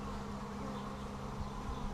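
A honeybee buzzes close by near a hive, a steady, continuous drone that holds even and fairly loud with no pauses.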